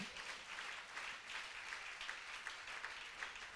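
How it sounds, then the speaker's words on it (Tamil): A church congregation claps hands together at a Sunday Holy Communion service, a dense continuous patter of many hands, steady and fairly faint, with no voices over it. "என்ன விசுவாச கைத்தட்டு."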